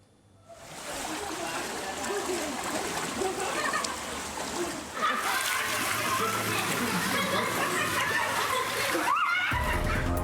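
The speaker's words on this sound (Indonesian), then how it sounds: "luapan air sungai menggerus permukiman warga dan ratusan rumah terendam" River floodwater surging through a residential neighbourhood in Kendari, Southeast Sulawesi, with hundreds of homes submerged about a metre deep: a steady, loud rush and splash of flowing water throughout, growing fuller midway, with faint voices in the background.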